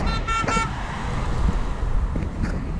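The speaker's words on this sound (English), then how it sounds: "That's my honk, not yours." A car horn gives a few short, loud honks at a roadside protest, followed by steady passing-traffic noise.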